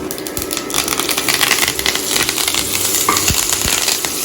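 Curry leaves and spices frying in hot oil for a tempering for South Indian sambar, a loud, steady, close sizzle with crackling pops and occasional spoon stirs.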